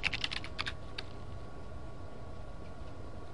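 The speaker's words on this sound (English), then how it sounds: "You will type in your password or your username and password like normal." Password being typed on a computer keyboard: a quick cluster of soft key taps at the start and a couple more afterward, faint against a low background hum.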